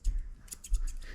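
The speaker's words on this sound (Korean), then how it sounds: "프로페셔널 헤어 커팅 Thinning Scissors. 소리 들려요?" Professional hair-cutting thinning scissors snip a few times in quick, light, crisp clicks close by, over a low background rumble.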